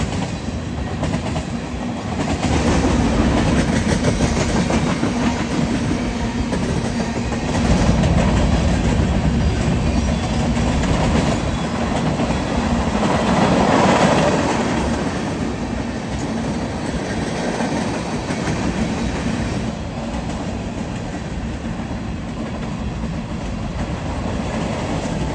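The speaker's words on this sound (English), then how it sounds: "I was very thankful to see some DPUs on this manifest, making it a really long train apparently, which it was." A long freight manifest train with distributed power units rolling past at Weatherford, Texas: a sustained loud rumble and rhythmic clickety-clack of wagon wheels on rail, swelling slightly as locomotives go by, with no talking.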